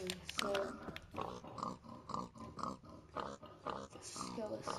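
A Minecraft pig on PS4 gives a run of repeated short grunting oinks, quiet and close, with a faint voice now and then between the sounds.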